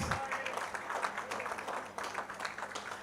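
An audience at a 40th anniversary awards banquet applauds an honoree with a dense, continuous patter of clapping. Voices murmur underneath the applause throughout.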